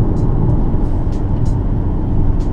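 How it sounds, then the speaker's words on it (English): A manual car's engine revving with the clutch in while shifting into third, a loud, steady drone close by inside the cabin. "push the clutch in, rev it up a little bit, put it into third"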